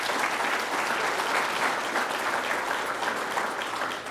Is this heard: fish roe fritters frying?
no